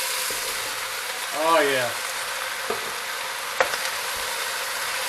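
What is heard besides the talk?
onions, bell peppers and mushrooms sauteing in a pan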